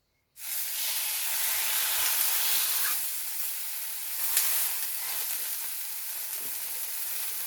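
A sudden loud hiss as steak hits a very hot pan, then continuous bright sizzling that holds steady throughout, close and without speech.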